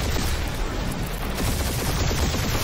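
Rapid gunfire in the Guardians of the Galaxy video game, a dense crackling fusillade of shots blending into a continuous rough roar, steady and fairly loud for a few seconds with no talk over it.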